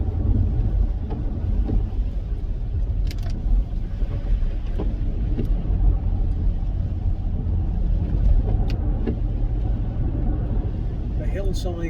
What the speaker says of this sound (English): Can give the car a little squirt without fear of ending up in a ditch or a hedge